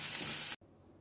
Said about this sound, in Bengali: সবার প্রথমে বেগুনটা ভেজে নেব। সামান্য হলুদ, সামান্য নুন দিয়ে এটাকে সুন্দর করে ভেজে নেব।